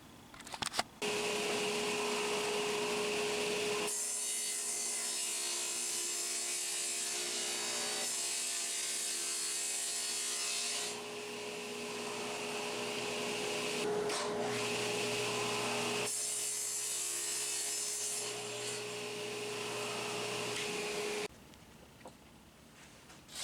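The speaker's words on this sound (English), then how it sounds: "I'm going to go ahead and cut a piece of plywood" A power saw cuts a piece of plywood in a workshop, whining loudly in two long passes separated by a short slowdown, then spinning down.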